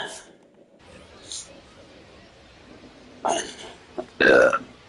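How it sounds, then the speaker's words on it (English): A loud, close burp erupts near the end, preceded by a shorter one, over a quiet background with faint baseball video game ambience and a commentator's voice. "I need that belch"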